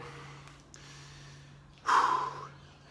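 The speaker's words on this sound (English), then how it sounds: "some heavy breathing, some oxygen debt" Heavy breathing after a set of squats: one strong, breathy exhale or snort bursts out near the close after quieter background breathing, close up with no talking.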